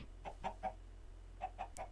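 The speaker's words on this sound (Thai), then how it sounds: "โอ้ทุกคนผมเจอไก่" Minecraft chicken clucks in a quick series of short, soft, evenly spaced pecks of sound, three in a row, a pause, then three more, over a low steady game hum.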